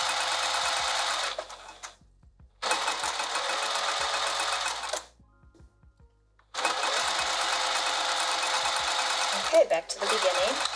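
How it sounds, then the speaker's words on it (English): A sewing machine stitches a dress seam in three loud, close bursts of rapid, even mechanical whirring, separated by short quiet pauses. "You did turn your machine back down to 3mm stitch,"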